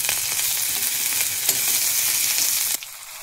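Nigella seeds and green chilies sizzle in hot oil in a wok, producing a loud, bright crackling hiss with scattered pops that drops noticeably in intensity near the end.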